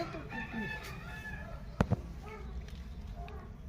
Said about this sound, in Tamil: இதுக்குள்ள வந்து நாட்டுக்கோழி இருக்கு